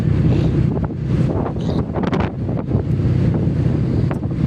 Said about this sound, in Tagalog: Ayan, maalon.